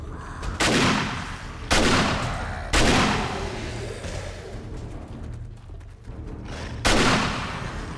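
Shotgun blasts in the video game 7 Days to Die: four loud, sharp shots spaced a second or more apart, each trailing off into a rumbling decay, with no talk.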